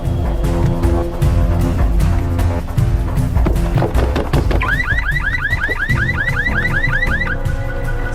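Car alarm of a green Volkswagen blaring loud and close, a steady whooping siren cycle that switches to rapid repeated rising chirps, over a busy, noisy street background.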